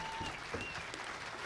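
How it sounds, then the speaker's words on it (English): Audience at a Bar D Chuckwagon Prank Night show by the Bar D Wranglers clapping in a steady, dense wash of applause, moderately quiet and continuous throughout. "give yourselves a nice round of applause"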